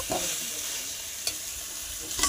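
Jackfruit pieces fry with spices in a pan, giving a steady close sizzle with a few scraping stirs of a spatula over a couple of seconds.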